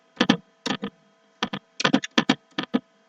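Keys clack on a computer keyboard, including enter and space presses, in quick irregular bursts of crisp taps with short pauses between groups, close and clear in a quiet room with no talking.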